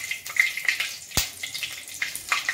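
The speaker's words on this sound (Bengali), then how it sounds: "এবার দেখো আমি গোটা জিরে ফোড়ন দিলাম, 1টা শুকনো লঙ্কা ফোড়ন দিলাম" Whole cumin seeds and a dried red chilli tempering in hot oil in a home kitchen pan, a soft crackling sizzle with scattered sharp pops spread across the short stretch, fairly quiet and close.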